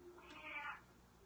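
A cat gives a single short meow, faint and somewhat muffled indoors, with no other sound around it.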